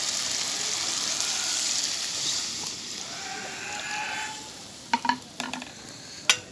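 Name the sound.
adding broth to curry in a frying pan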